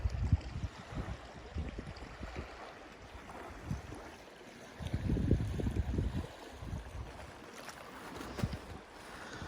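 Lake water at Coldwater Lake near Mount St. Helens laps and washes steadily. Soft, uneven surges swell and recede with no voices.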